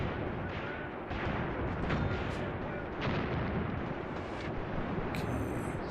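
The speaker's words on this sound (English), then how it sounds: "you can hear the mortars firing away in the background as well" Mortars firing in the Graviteam Tactics wargame: a steady barrage of dull, rumbling thuds and crackling reports repeating every second or so at a distance, forming a dense continuous bed of battle noise.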